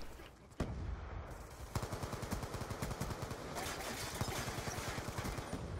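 Rapid bursts of automatic gunfire from Call of Duty: Black Ops 2 rattle continuously, the player taking hits amid a dense, loud barrage with overlapping shots and no talking.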